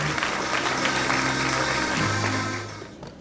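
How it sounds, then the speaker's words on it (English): An audience at a property awards ceremony applauds the champion team in a dense, steady wash of clapping that fades toward the end, with faint music underneath. "Give them another round of applause."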